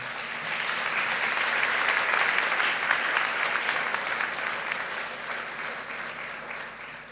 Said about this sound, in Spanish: Daros vosotros mismos un aplauso.